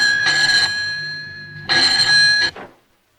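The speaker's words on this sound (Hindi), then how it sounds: "डॉक्टर साहब, आपका टेलीफोन है" A telephone rings in two long electronic bursts separated by a pause, bright and clear, the second ring cut off abruptly before silence.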